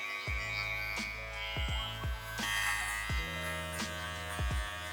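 Electric trimmer buzzing steadily as it cuts stubble against the grain of a beard, a constant close hum with repeated short strokes and taps as it passes over the jawline.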